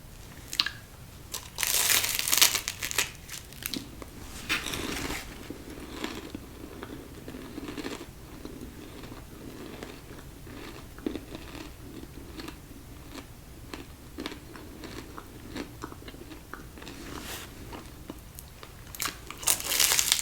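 Close crunchy bites and chewing of a flaky cinnamon-sugar pastry from a German Christmas market, with repeated crisp crackles and crumbling flakes, loudest at the start and end, and no talking.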